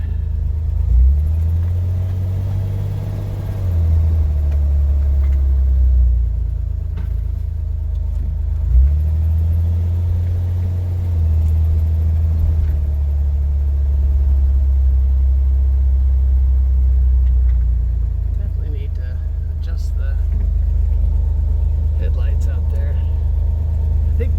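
A Chevrolet Corvair Lakewood engine runs steadily in drive, a low, continuous rumble with slight rises and falls in pitch, loud and close, as a person talks over it.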